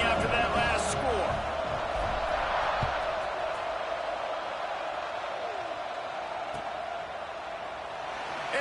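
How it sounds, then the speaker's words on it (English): A packed college football stadium crowd at an Ole Miss game buzzes after a score, a steady broad roar with a few whoops and thuds, while a commentator talks over it. "this crowd is buzzing after that last score"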